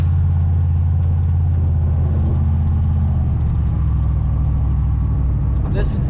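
A 1987 Aero Coupe with a 480 transmission drives down the road, its engine holding a steady low drone with constant road rumble from inside the car.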